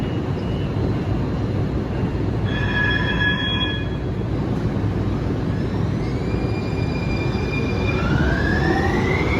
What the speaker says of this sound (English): It's a new day and we're taking an N-Judah train again.